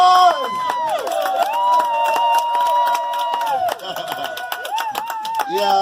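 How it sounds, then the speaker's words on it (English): A crowd applauds an honoree at the unveiling of a mural and Ambassadors of Peace award ceremony: scattered clapping runs throughout beneath sustained tonal voices or music, moderately loud. "give him a big round of applause"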